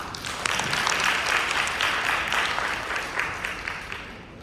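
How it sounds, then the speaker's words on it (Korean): Applause after a digital marketing lecture in 2024: a broad, moderately loud wash of audience clapping that swells early and slowly tapers off toward the end. "다시 한번 큰 박수 부탁드리겠습니다"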